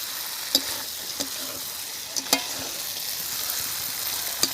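Duck meat fries in its own rendered oil in a village-style kitchen, giving a steady close hiss of sizzling with a few sharp clicks of stirring.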